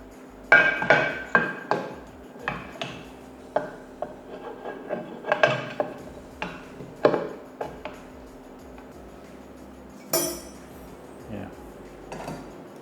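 The clutch cover is fitted onto a Honda CRF150L engine during a bore-up to 285cc. Close metallic knocks, taps and clatters come in scattered bursts, some sharp and loud, over a quiet workshop background.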